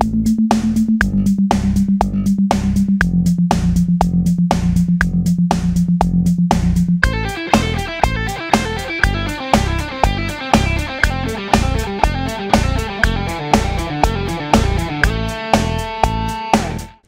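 Guitar picking steady sixteenth notes, first as a single repeated note shifting pitch, then as full strummed chords in an even, driving rhythm, loud and close with no voice over it.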